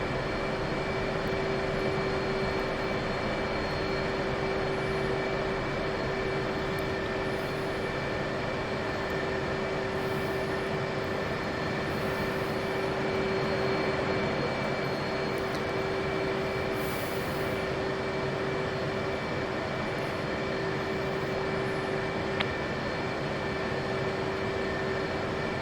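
Steady jet engine whine with a constant high tone and broadband rumble as a jet aircraft taxis toward runway 31 in a flight simulator game, continuous and unchanging throughout, no voices.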